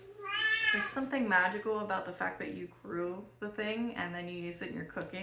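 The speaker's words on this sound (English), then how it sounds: "Sorry about my cat." A house cat meows repeatedly in the background of a seed-unboxing session, faint and intermittent beneath a person speaking steadily throughout.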